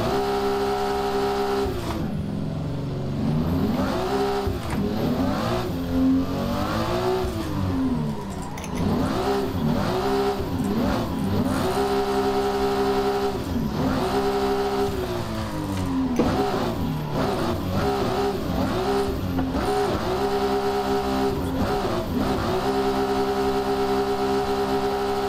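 Race car engine in the Assetto Corsa racing game during a lap of a drift event, loud and continuous, with repeated revving rises and falls, gear changes and shifting pitch throughout, no talking over it.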